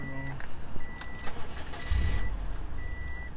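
Subaru Impreza WRX engine starting in a parking lot: a few thin electronic chimes sound, then a low rumble kicks in and settles into a quiet, steady idle.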